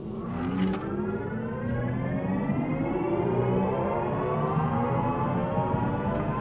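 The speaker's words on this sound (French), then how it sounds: "ça simule un peu un petit bruit de moteur pour ceux à qui ça manque trop" Simulated engine sound from an electric Mini accelerating, a synthetic hum that rises steadily in pitch like a revving motor, continuous and fairly loud with no talk.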